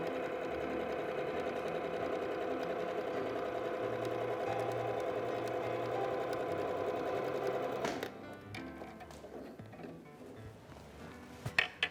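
A sewing machine runs salmon-colored thread along a seam on a patchwork placemat, buzzing steadily and close for about eight seconds before stopping, followed by faint handling clicks.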